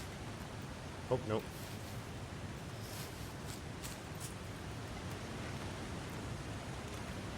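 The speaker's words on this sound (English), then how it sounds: "it is a loud waterfall from a long way out" A loud waterfall heard from a long way off in the video game The Long Dark gives a steady, broad rushing hiss, with a brief spoken voice near the start.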